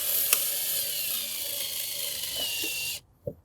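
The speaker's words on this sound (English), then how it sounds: "So I'm just going to put it down, screw it in." Screw being driven into a latch on an old cooler during a repair, a steady close mechanical whir with faint clicks that stops abruptly near the end, followed by a brief knock.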